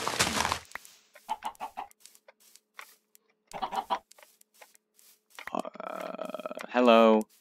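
Short clucking calls from Minecraft chickens mixed with talk, then a steady buzzing tone and a loud rattling burst near the end.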